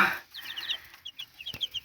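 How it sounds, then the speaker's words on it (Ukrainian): Small chicks cheep and peep in quick, high chirps, close by on fresh hay, with a soft rustle in between. "Випустили курчаток"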